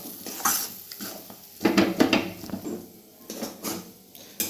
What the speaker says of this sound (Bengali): এখানে মুগ ডালটাকে আমি ভাজছি